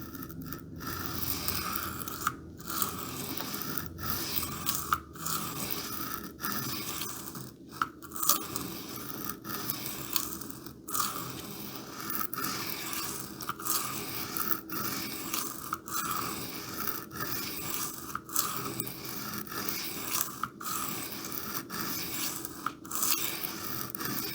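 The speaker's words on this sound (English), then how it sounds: "I actually don't like the sound of the grinding" A knife blade dragged repeatedly through a Hone knife sharpener gives close, steady scraping grinds, broken by sharp gaps between strokes in a regular rhythm over about twenty seconds.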